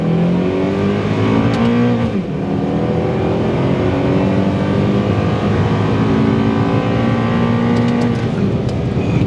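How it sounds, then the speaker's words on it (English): Honda Accord Type S CL9 with a 2.4 litre K24 four-cylinder VTEC engine, heard from the cabin while driving, revving up and shifting with a steady, loud engine drone, pitch rising then dropping twice. "Driving the Honda Accord Type S. What a lovely engine this is powered by."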